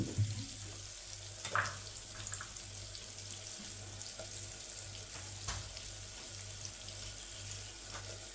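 Frying onion and tomato with Agri masala, turmeric and mutton masala as ground masala paste goes in, a steady soft sizzle running throughout with a few brief clinks and stirring scrapes, no talking.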